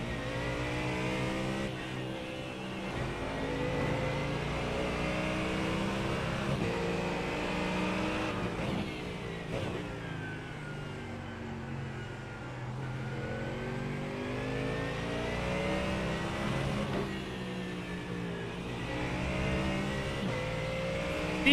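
Race car engines in the iRacing simulator during an eNASCAR Coca-Cola qualifying series race, a steady layered drone of several cars at high revs with rising and falling pitch as they pass, sustained throughout.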